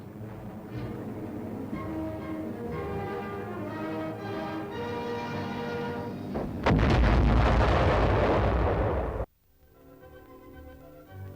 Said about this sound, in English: Automatically explodes a projectile just before it reaches the target.